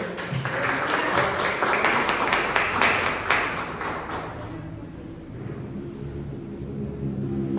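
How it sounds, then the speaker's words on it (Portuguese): A church congregation applauds, a thick wash of many hands clapping that fills the room for a few seconds, then fades into a low murmur and room rumble. "A igreja aplaude o Senhor"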